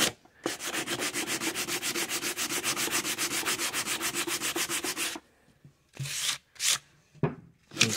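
Wooden phone amplifier being sanded with steady, rapid back-and-forth strokes for about five seconds, loud and close, followed by a few shorter, separate rubbing bursts.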